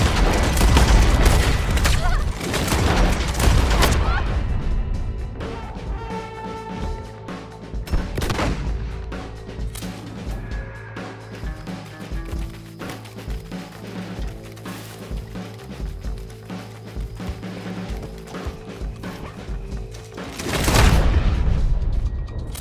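Explosive-round gunfire in Red Dead Online: heavy booming shots and bursts, loudest at the start and again near the end, with scattered cracks and game sounds between them and a voice speaking over part of it.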